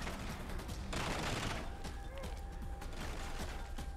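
Automatic weapon gunfire in the video game The Bourne Conspiracy, a dense continuous rattle of shots with clicks and creaks of mechanisms, fairly loud with no talking.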